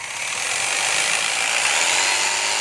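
Makita 390W jigsaw running at speed, giving a loud, steady whir that starts and holds without pause through the short stretch, with no voices over it.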